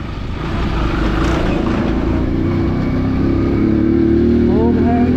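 Vehicle being driven away, a steady engine drone building slightly in loudness, with voices shouting over it.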